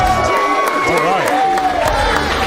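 A hometown crowd at a CarJitsu championship fight cheers and shouts for a veteran fighter, a steady, loud wash of voices and whistles with a commentator talking over it.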